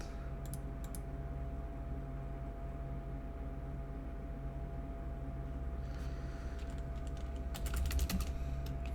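Keyboard typing of C# code at a computer, a soft steady patter of key clicks against a constant low hum, growing busier and louder near the end, with no one speaking.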